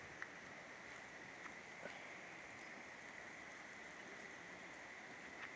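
A stream flowing below big trees in a forest near a cave, a steady broad wash of running water heard at a distance, constant and unbroken, with no talking.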